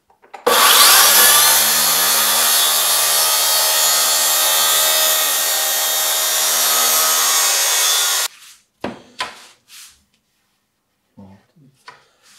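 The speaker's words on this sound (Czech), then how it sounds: "Takže pilu zapínám a dojedu konec." A Makita DSP600Z plunge saw cuts through wood, loud and close with a steady whining roar for about eight seconds before stopping abruptly, followed by a few brief knocks and handling noises.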